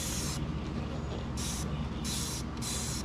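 Dish soap spritzed from a spray bottle onto a glitter tumbler: four short, sharp hissing bursts with brief pauses between them, close and fairly loud over a low background hum.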